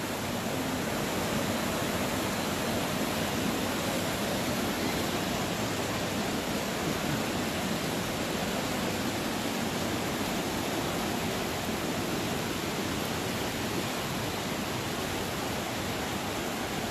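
Swollen Beas river in Mandi rushing after torrential rain, a dense, steady roar of fast water that fills the scene continuously without any voices.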